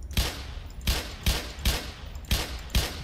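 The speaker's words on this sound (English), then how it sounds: "the problem here with the pistol is that when you rapid fire, even a single shot, it already gets inaccurate" Pistol fired rapidly in the Black Mesa video game: six sharp, evenly spaced gunshots in about three seconds, each a punchy crack with a short tail, heard alone.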